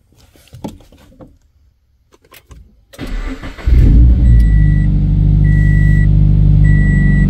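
A Subaru BRZ sports car starts up: quiet cabin shuffling and clicks, then the starter cranks and the engine catches into a loud, steady idle, while a chime beeps repeatedly in the cabin.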